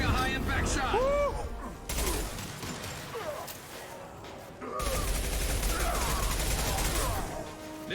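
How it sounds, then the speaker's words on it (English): A high impact shot is fired in the video game Mass Effect 2, and heavy sustained gunfire and impacts roar through two long loud stretches while voices speak over the combat. "Firing a high impact shot."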